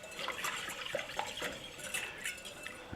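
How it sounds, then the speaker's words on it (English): A spoon stirs a shrimp marinade with tarragon in a bowl, giving a faint, steady wet swishing and soft liquid sloshing with small clinks, close by and with no voices. "I'm going to give it a little stir."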